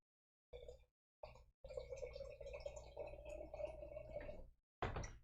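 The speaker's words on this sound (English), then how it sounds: "All you hear is like water in the background." Water pours and sloshes into a cup close by, with short liquid bursts, a longer steady pour and a final splash or gulp, no voices over it.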